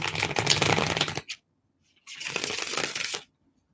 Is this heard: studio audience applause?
no